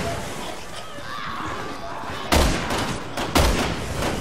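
Gunshots in Resident Evil 6, two loud sharp booming blasts about a second apart, heard over game ambience and a player talking.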